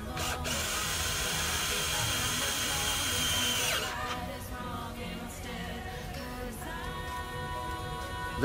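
A Bosch 36V cordless drill runs with a loud, continuous whine that changes pitch partway through, with ratcheting mechanical noise and no talk.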